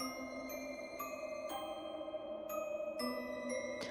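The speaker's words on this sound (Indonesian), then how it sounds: "mendengar suara lonceng dari sebuah pintu yang terbuka dengan sendirinya" Small bells on a door that opens by itself ring out in a series of bright, clear chimes about every half second, each tone lingering and overlapping the next.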